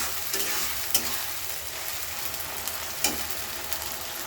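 Spice masala for a mung dal and egg dish being stir-fried in a pan, a steady close sizzle with a couple of sharper stirring scrapes, no talk.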